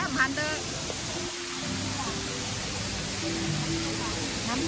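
A waterfall at Lalitta Cafe in Chiang Rai gives a steady, soft rushing hiss that runs without a break, while voices talk faintly nearby.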